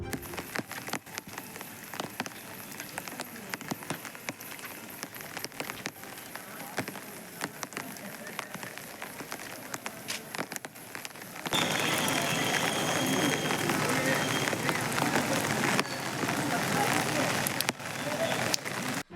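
Heavy rain pours down in Sankarankovil, Tamil Nadu, a dense, steady hiss that grows noticeably louder and fuller partway through, with no clear speech.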